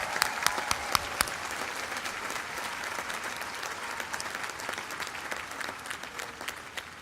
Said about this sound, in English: Can we give them a big cheer?